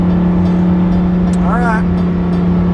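Lamborghini driving, heard from inside the cockpit, a steady loud engine and road drone with a strong low hum, while a person talks over it.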